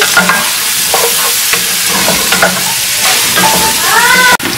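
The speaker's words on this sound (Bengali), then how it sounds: "আমি সেম তেলের মধ্যে দিয়ে দিচ্ছি পেঁয়াজ, মিক্স করে নিচ্ছি।" Sliced onions tossed into hot oil and stirred, a loud, close, continuous sizzle broken by repeated scraping strokes of a spoon, with a brief squeaky whine near the end.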